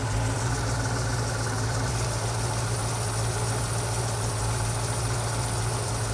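A car engine fitted with a Holley carburetor idles steadily up close. Its low, even rumble holds unchanged throughout, with no talk over it.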